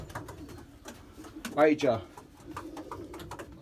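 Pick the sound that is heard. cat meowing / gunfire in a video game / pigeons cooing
pigeons cooing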